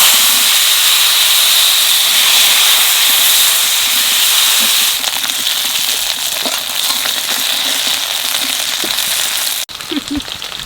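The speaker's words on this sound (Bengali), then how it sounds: "মাছ ভাজা তেলের মধ্যে কয়টা আলু ভাজি নেব।" Potatoes frying in oil already used for frying fish, a loud steady hiss and sizzle that thins out midway, with a brief clatter of utensils near the end.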